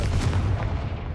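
A Confringo fire spell cast in Hogwarts Legacy bursts as one dense, booming blast of low rumble lasting about a second, loud and sustained without a sharp break.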